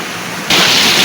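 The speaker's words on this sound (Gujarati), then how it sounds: "આપણે અહીંયા તો પાણી ફૂલ આવવાનું ચાલુ છે અંદરથી પાણી ફૂલ આવે છે" Rainwater rushing strongly through a Mahadev temple in Ranol village, a dense roaring wash that jumps abruptly louder halfway through and stays steady, with no voices.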